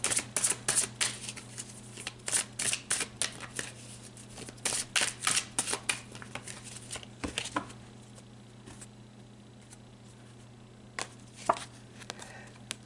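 Tarot cards shuffled and pulled from a deck, a run of crisp riffling snaps and flicks in quick bursts, close and distinct over a steady low hum, then sparse single card slaps toward the end.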